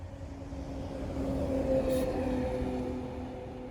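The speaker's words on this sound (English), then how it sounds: "And something to note about these buses. Please listen how quiet they are." A quiet bus passing along a road, a soft hum with faint tonal whine that swells and fades as it goes by.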